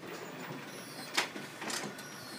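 Ricoh MP C5000 copier feeding documents through its document feeder and finisher, a steady mechanical whir with brief sharp clicks and a short snap, close and moderately quiet with no talk.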